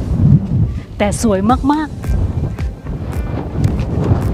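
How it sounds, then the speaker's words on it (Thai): Strong wind buffets the microphone on a hiking loop at Blue Mesa in Petrified Forest National Park, a steady low rumble running throughout while someone talks over it. "ลมแรงมาก"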